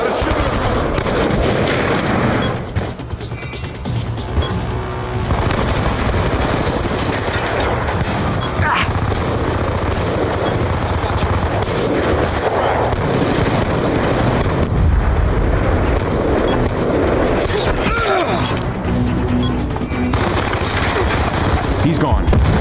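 Sustained loud gunfire rattles in a Call of Duty match on Plutonium, with overlapping automatic bursts and booms continuing almost without pause, and players talking intermittently over the shooting.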